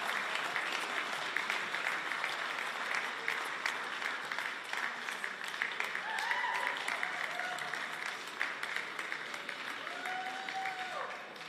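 An audience at a poetry festival in Jamaica claps steadily and evenly from start to finish, a dense, moderately distant wash of applause with no voices on top.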